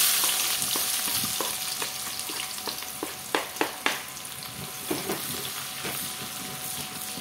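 Onion and garlic sizzle hard as they hit hot oil left over from frying tofu, a loud continuous crackle punctuated by a few sharp spatula scrapes and taps against the pan.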